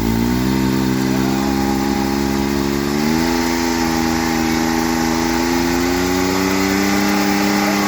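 Loud, steady idle from a powersports vehicle engine with the catalytic converter deleted and the electronic dump valve bypass closed, a droning tone with a slight pitch rise partway through and no talking.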